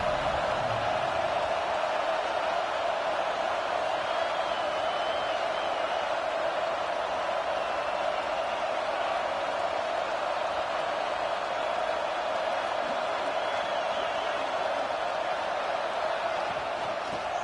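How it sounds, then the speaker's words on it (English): A stadium crowd roars in a college football video game, NCAA 26, as the home defense tries for a red-zone stop; the dense, steady wall of cheering runs throughout with no breaks. "The crowd getting behind this defense as they try to get a stop in the red zone."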